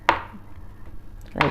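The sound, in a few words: chopping garlic cloves with a knife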